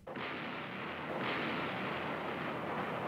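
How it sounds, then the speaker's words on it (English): A battleship's big naval guns fire offshore near Beirut, producing a loud, sustained booming roar that fills the whole clip with a rumbling blast and a second surge partway through, with no voices. "her guns pound target 16 to 18 miles beyond Beirut"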